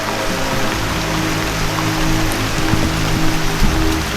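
Steady, dense hiss of heavy rain pouring down continuously, loud and enveloping, with a low rumbling undertone and no voices.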